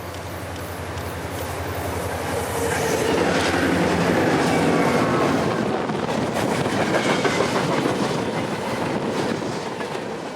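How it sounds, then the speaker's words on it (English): A CSX local freight train, symbol L463 and powered by three EMD road switchers, rolls past on the W&A line in North Georgia, a loud, steady rumble with clickety-clack wheel beats and faint squeal. "A trio of EMD road switchers would power this train"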